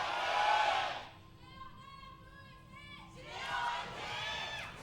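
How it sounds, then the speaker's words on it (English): A packed esports arena crowd at a League of Legends LCK Spring match between Longzhu and Jin Air cheers loudly in two big swells, with a short tonal musical sting in between. "Definitely a really big cheer for both teams"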